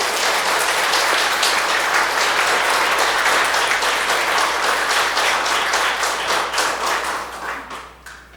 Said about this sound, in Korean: 성가대가 안정적으로 활동을 재개할 수 있도록 힘찬 격려의 박수를 좀 쳐주시면 좋겠습니다.